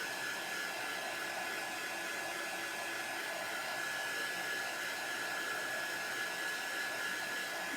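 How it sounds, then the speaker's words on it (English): A concentrated heat tool blows hot air in a steady, unbroken roar, drying chalk paste on a T-shirt up close, with no talking. "I'm trying to keep the heat tool moving."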